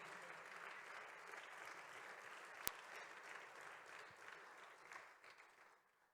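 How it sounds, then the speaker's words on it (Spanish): A church congregation applauds in a steady, dense wash of clapping that carries on throughout and then thins out toward the end, with no speech. "Denle un fuerte aplauso al Señor."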